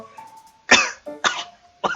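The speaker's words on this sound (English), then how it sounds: "I start coughing non-stop." Coughing in a visual novel video game, three harsh, close coughs in quick succession with short pauses between them, heard alone over a faint sustained tone.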